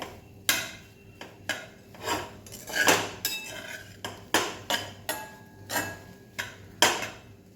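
A spoon stirs semolina sheera with milk powder in a metal pan, giving repeated scraping and clinking strokes at a steady, uneven rhythm, close and fairly loud, with no talking.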